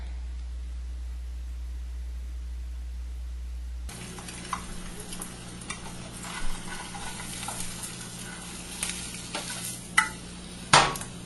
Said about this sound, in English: Jennifer cracked the egg open and fried it.